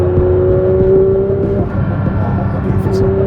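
A flat-six car engine in a sim racing game drones steadily with a deep, rumbling tone and slight revving, continuous and fairly loud throughout, with a voice briefly audible.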